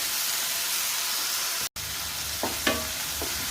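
Native tomatoes and onions soften in a pan for a brinjal coconut curry, giving a steady low sizzle broken by a brief gap and a few soft stirring scrapes near the end.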